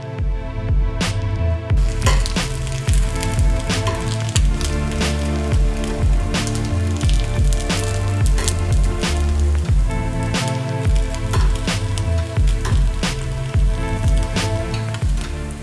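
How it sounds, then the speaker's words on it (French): Chicken and peanut rolls fry in melted butter in a pan, giving a steady loud sizzle full of crackling pops and spatters that run the whole time without pause. "je mets mes rouleaux dans la poêle avec le beurre"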